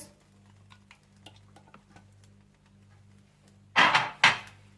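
A spoon stirs sweet chili sauce cooking in a pan, with faint ticks at first and then two loud scraping swirls near the end over a low hum.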